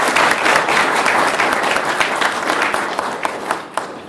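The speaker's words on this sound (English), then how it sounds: "Let's give them a round of applause." A city council meeting audience applauds students at an awards presentation, with loud, dense clapping from a full room that carries steadily throughout before easing slightly near the end.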